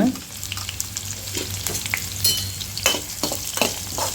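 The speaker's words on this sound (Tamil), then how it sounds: "வெங்காயம் வந்து நல்லா பொன்னிறமாக வரணும், அந்த அளவுக்கு நல்லா வணக்கிக்கோங்க" Sliced onions fry in oil for a sardine fish curry, a close crackling sizzle broken by repeated spoon scrapes and stirring clinks, with no talking.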